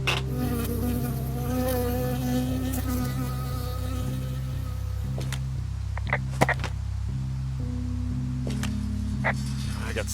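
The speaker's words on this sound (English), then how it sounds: "I got stung by a bee." A bee in Firewatch buzzes steadily and close for the whole stretch, droning over a low rhythmic background with a few sharp clicks and rustles.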